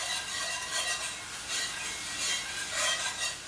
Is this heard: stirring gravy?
yes